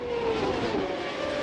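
CART Indy race cars at racing speed at the 1998 Toronto race, giving a steady high-pitched engine whine that slowly drops in pitch as the cars pass, heard at a moderate distance.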